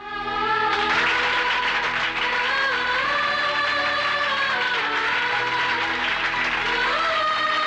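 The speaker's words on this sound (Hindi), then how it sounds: "इन तालियों का ना तो मैं हकदार हूं और ना ही अदालत।" Loud, sustained applause from a large crowd in a courtroom, dense and steady clapping that fills the room for several seconds.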